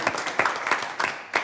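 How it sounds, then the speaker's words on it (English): Sparse, slow clapping, a handful of separate claps spaced out in an even rhythm, fairly quiet. "Give them a round of applause."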